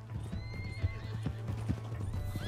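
Horses galloping in the video game Red Dead Redemption 2: steady rapid clip-clop hoofbeats close and loud, with occasional whinnies and a constant low rumble throughout.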